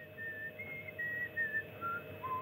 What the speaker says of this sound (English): Would you quit that whistling?